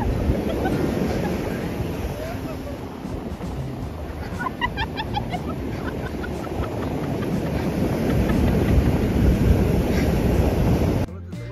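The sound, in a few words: sea waves on a beach at Puri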